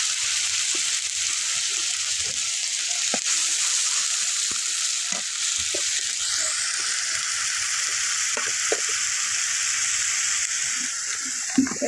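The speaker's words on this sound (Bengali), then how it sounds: "এই যে তেল দিয়ে দিলাম পরিমাণ মতো, এই যে পেঁয়াজ রসুন পেস্ট বাটা" Onion and garlic paste fries in hot oil, a steady close sizzle running the whole time, with small scrapes of a spoon stirring through it.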